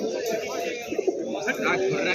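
Pigeons coo at a busy bird market in Birnagar, West Bengal, their low murmuring calls rising and falling amid crowd chatter and voices nearby.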